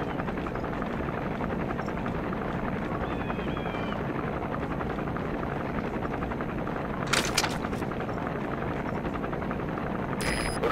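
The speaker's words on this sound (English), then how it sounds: "Looks like the arms dealer's chopper is gonna patrol for the security forces." An arms dealer's helicopter patrolling in Metal Gear Solid V: The Phantom Pain, a steady rotor thrum throughout with a few sharp bursts near the end, heard alone with no voices.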